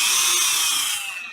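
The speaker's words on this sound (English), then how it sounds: "I've got a sanding drum on my mandrel on my Dremel here" A Dremel with a sanding drum on a mandrel whines steadily as it grinds against plastic, close and loud, then begins winding down.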